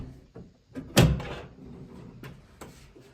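A door in a home is opened with one loud, close thud and rattle midway, followed by softer knocks and shuffling movement.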